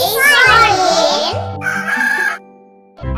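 A cartoonish hen clucks and crows loudly in a children's alphabet phonics song, over bouncy music with a voice, then cuts briefly to silence.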